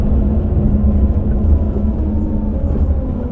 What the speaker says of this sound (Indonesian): sekarang kita baru keluar dari terminal Larking Johor menggunakan bus yang super mewah